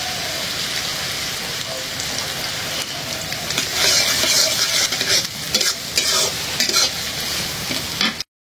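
Onions and green chillies sizzle and crackle in hot oil in a pan while being stirred, a steady close-up frying hiss with occasional scraping.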